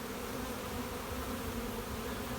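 Honeybees fill a double brood chamber hive of two deep boxes packed with bees, producing a dense, steady buzzing drone that holds evenly throughout at close range with no voices.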